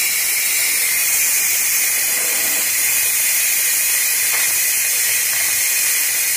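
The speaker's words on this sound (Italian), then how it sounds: "adesso faccio sfiatare la pentola" An electric pressure cooker vents steam through its valve after cooking pasta with pancetta, a loud, steady, unbroken hiss that runs for several seconds with no talking over it.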